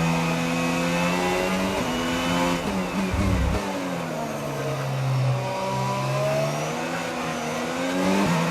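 An F1 car in the F1 22 video game accelerates around the Bahrain circuit, its engine rising and falling in pitch through gear changes, loud and close with no talk.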